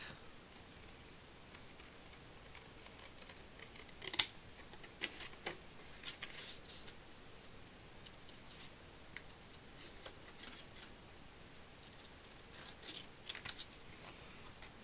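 Scissors snipping along a straight line through a paper greeting card, a quiet run of short crisp clicks and scrapes at close range with no voices.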